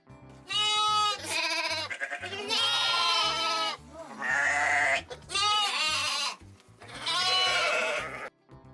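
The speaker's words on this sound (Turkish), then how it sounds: "Keçiler böyle ses çıkartır." Several loud, quavering goat bleats in succession, close up, separated by brief pauses, with no talking.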